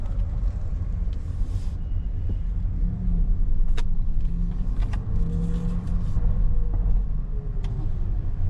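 A rental car drives on Spanish roads, heard from inside the cabin as a steady low engine and road rumble with occasional faint clicks and ticks, and no talking.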